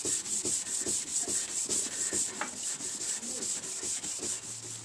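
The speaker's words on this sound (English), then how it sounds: "little clean up with the oil and the Scotch-Brite. Just get all the little marks off it" A Scotch-Brite pad with oil rubs over a metal Yoshimura race exhaust can, giving a close, rhythmic scrubbing of steady back-and-forth strokes, roughly four or five per second.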